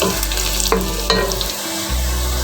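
Mutton keema with whole spices (chillies, cloves, cinnamon, black cardamom) sizzles loudly in a pan, with a couple of stirring clatters and a brief dip before the frying hiss surges back; no talk.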